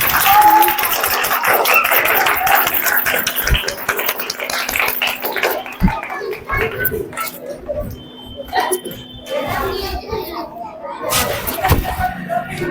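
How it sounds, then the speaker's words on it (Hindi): Children and adults applauding at a Republic Day prize-giving ceremony, a dense burst of clapping that thins out over time, mixed with crowd chatter and children's voices. "तालियां बजनी चाहिए।"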